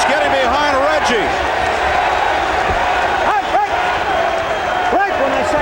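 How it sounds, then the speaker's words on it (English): A loud, vocal crowd at a boxing match at the Meadowlands roars steadily throughout, with a ringside commentator talking over the noise. "A very vocal crowd here at the Meadowlands."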